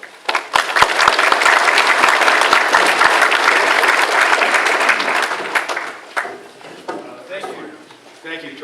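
An audience at a meeting applauds to welcome a speaker, a loud, dense clapping that holds steady for several seconds and then thins out as a voice begins.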